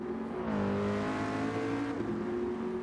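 Race car engine in Gran Turismo 7 driving through heavy rain on intermediate tyres, a steady loud harmonic drone that rises and falls in pitch as revs change, continuous with no talk.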